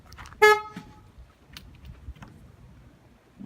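One short, loud car horn chirp sounds as a car is locked near a beach, followed by faint footsteps and light handling noises.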